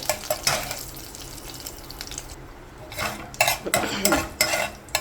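Tempering spices, or popu, crackling in a pan for a brinjal and broad beans curry, with scattered pops and clinks of a utensil against metal, some sharp bursts close by and a quieter spell between them.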